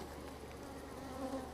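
Honeybees buzz steadily around an open hive while honey is being harvested, a continuous close, dense drone with no voices.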